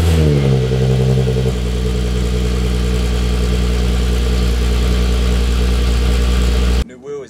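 Volkswagen Corrado VR6 engine hums steadily and loudly while the car is driven, a dense low drone with faint gear changes, cutting off abruptly near the end.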